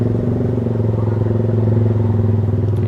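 A motorcycle fitted with a racing exhaust idling in neutral after a start without throttle, a loud, steady, deep burbling drone held close up with no revving.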